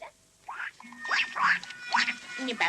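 A few short, high, squeaky quacks from a small duck, spaced out over a couple of seconds with brief pauses between calls.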